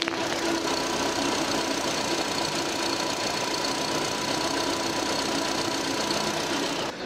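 A Renault Samsung New SM3 engine idles with the hood open, heard up close as a steady, even hum with a faint ticking texture that holds unchanged from start to finish, with no one talking.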